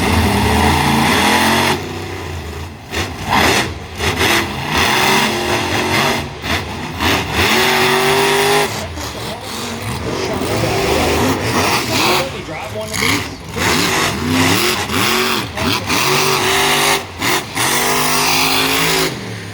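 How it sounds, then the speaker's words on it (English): Monster truck engines rev hard and repeatedly in a loud duel at an event at the Freedom Factory, deep throaty surges rising and falling close by, with someone commentating excitedly over the noise. "a little dueling monster truck"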